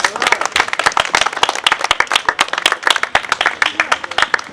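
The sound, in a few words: crowd applauding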